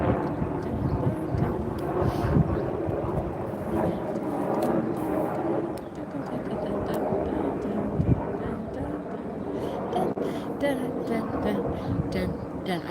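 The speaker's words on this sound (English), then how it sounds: "You'll get to hear the helicopter going over." A helicopter rumbles steadily overhead, its engine and rotor drone filling the air while a person talks over it.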